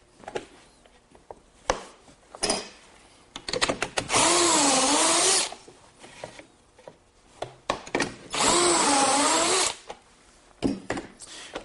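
A power drill boring pocket holes through wood with a Kreg jig, in two sustained whining bursts of a few seconds each, with clatter and knocks of handling between them and no voice.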